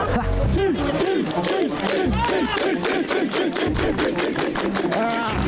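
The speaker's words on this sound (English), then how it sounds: "Look at that fucking crowd." A large crowd at a sports event chants loudly and rhythmically in unison, voices rising and falling in repeated swells with a chaotic roar behind them, close and sustained throughout.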